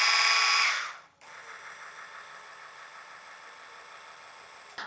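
A hand blender stick whirs steadily in pav bhaji after a brief louder burst, a sustained mid-pitched motor hum close by with no talking.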